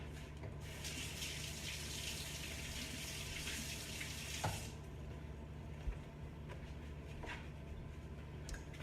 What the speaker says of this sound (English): Let me give my hands a little wash here.